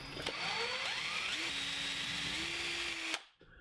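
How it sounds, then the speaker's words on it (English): A motorized drill whines with rising and steady pitch for about three seconds while drilling holes in a rosewood drawer pull, then cuts off abruptly, with clicks at the start and end. "that's where I'll drill my holes"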